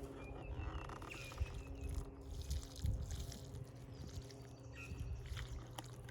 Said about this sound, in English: Put a bit of water on that.